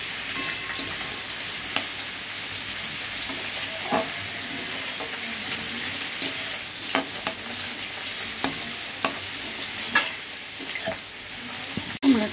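Ash gourd (chal kumro) frying and being stirred in a pan with salt, a steady close sizzle with occasional spatula scrapes and clicks running throughout, no talking.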